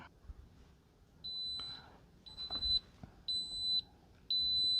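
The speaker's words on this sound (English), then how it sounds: "you can hear the alarm that the Instant Pot Duo Crisp gives" Instant Pot Duo Crisp air fryer timer alarm beeps four times in a regular rhythm, each tone a clear, fairly loud, high-pitched electronic beep lasting about half a second, with quiet background rustling between.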